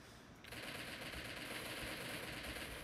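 A BAR rifle firing in the Roblox shooter Arsenal, a dense continuous burst of automatic fire that starts abruptly and holds loud to the end.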